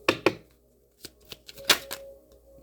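Tarot cards shuffled by hand in a quiet room, a handful of separate soft riffling and slapping bursts spaced irregularly.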